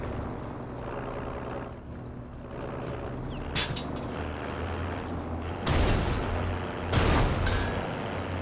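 Truck driven in Call of Duty: Modern Warfare, its engine rumbling steadily with air-brake hisses, mechanical clanks and louder bursts near the end, with no talk.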